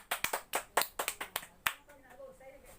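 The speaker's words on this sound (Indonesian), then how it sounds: "Tepuk tangan dulu untuk temannya yang sudah tampil." Students in a classroom give a short, quiet round of about a dozen quick claps for a classmate, fading out after under two seconds into faint room noise.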